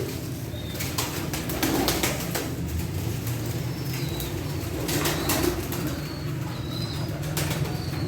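Pigeons flutter and flap their wings in bursts close by, with soft cooing and pecking over a steady background rumble.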